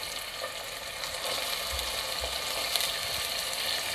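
Peas and potatoes sautéing for dal khichdi in a pan, a steady soft sizzle with faint scraping and stirring clicks throughout, quiet and close.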